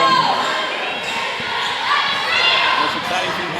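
Crowd noise at a Friday night high school girls' basketball game between Bremerton and North Mason, a steady murmur with occasional cheers and ball bounces, under a commentator's voice.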